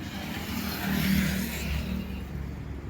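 A toy tractor large enough for children to ride, giving a low motor hum that swells briefly midway and then settles, fairly close and without talk.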